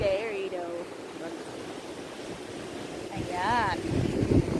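Strong wind buffets the microphone on a cliff, with waves or surf rumbling below in a steady roar, while a person talks over it in short bursts.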